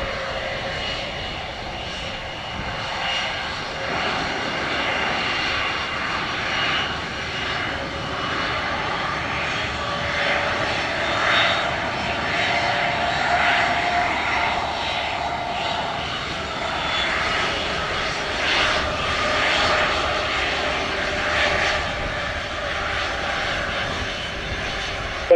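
Airliner jet engines at Montego Bay's Sangster International Airport near runway 7, a steady distant roar with a whining hum that swells slightly and fades, continuous with no speech.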